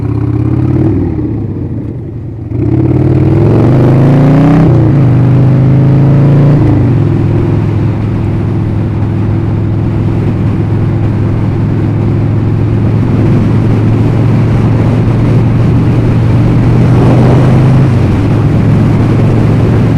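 A car on a short drive to the store, heard from inside. The engine revs up through a few gear changes and then settles into a loud, steady, continuous drone.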